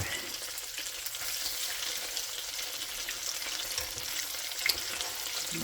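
Salmon cakes fry in a pan with a soft, steady sizzle and hiss, faint and close, with a few small pops and no talking.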